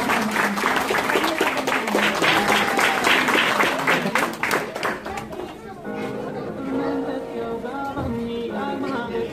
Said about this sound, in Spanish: Un aplauso fuerte para Sofi